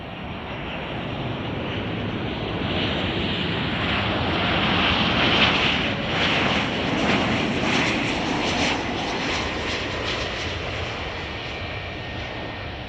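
An airliner on flight 1922 from Turks and Caicos arriving at Chicago O'Hare makes a sustained jet roar that builds slightly toward the middle and then eases while staying strong, with no voices over it.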